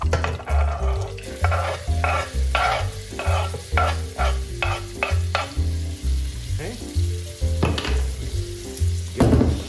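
Garlic sizzling in a saucepan for creamed spinach, a close crackling fry with regular scraping stirs that pulse in a steady rhythm, loud and alone with no talking.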